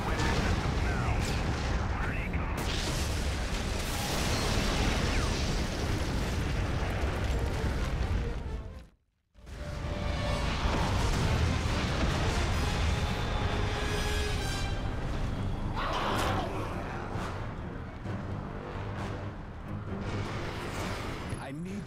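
A called-in artillery strike pounds in the Prototype video game, a loud, continuous roar of explosions and rumbling blasts that cuts out briefly midway and then resumes with full force.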